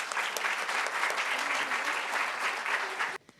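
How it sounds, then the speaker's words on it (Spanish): Steady audience applause at a business event of the Santiago Chamber of Commerce, many hands clapping at even loudness before cutting off sharply near the end. "Un aplauso, por favor."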